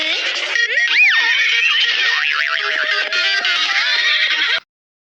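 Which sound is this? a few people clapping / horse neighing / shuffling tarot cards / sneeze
horse neighing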